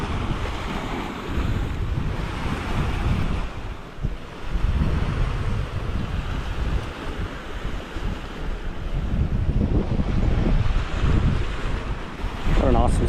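Ocean surf and gusty wind at Kuta Beach in Bali, a steady broadband wash of breaking waves with heavy wind buffeting on the microphone throughout, loud and continuous with no voices.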